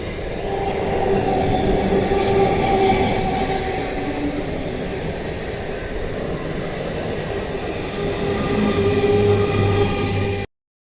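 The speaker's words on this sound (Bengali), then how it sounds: "ট্রেন আসছে জানো তো" A train passes close by, a loud continuous rumble of wheels on rails with a drone and rhythmic clatter lasting throughout before cutting off.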